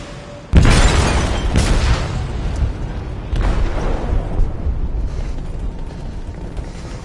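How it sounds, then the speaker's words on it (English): An explosive detonating in a ship's hold in a video game: a sudden loud boom bursts in, then a long rumbling roar with a second surge of blast noise before it slowly fades. "They detonated an explosive in the hold."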